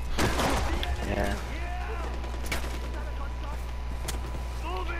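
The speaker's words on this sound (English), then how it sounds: "He said, was that a gunshot?" Gunfire in the Far Cry 4 video game, with sharp shot bursts early and isolated cracks later, mixed with vehicle engine hum and people talking over it.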